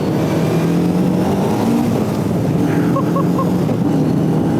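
Loud, steady engine roar of a Caterham 420 Cup race car with race exhaust and sequential gearbox, a droning exhaust note that holds constant throughout, close and unbroken.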